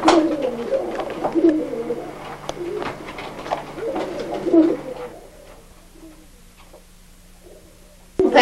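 Old German Owl pigeons coo in repeated soft, throaty bursts for about five seconds, close by, then fall quiet with a low hum underneath and a sharp knock at the end.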